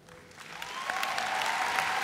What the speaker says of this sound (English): give our parents and those who have supported us a round of applause